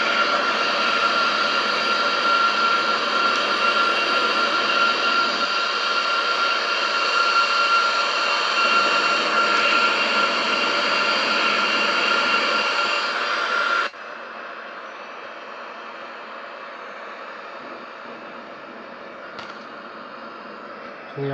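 Steady jet engine roar of an airliner in the X-Plane 11 flight simulator flying over a runway, a loud continuous broadband rush with a high whine that drops to a quieter, duller drone partway through.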